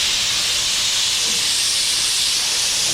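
Steady, loud hiss of venting steam from a steam locomotive such as the Edison, in a roundhouse setting, filling the full three seconds as a continuous broadband rush without pause.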